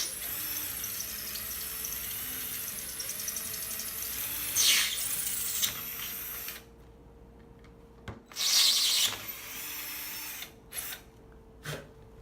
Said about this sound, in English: a drill with an 1/8" drill bit, you just line up on the brass insert and drill those all the way through